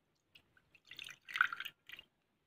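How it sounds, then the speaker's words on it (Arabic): Frankincense-soaked water poured into a dish, heard as a few faint drips and then a short, close trickling splash of liquid with no talking. "ابتدي بقى أضيف فيه ربع كوباية منقوع اللبان"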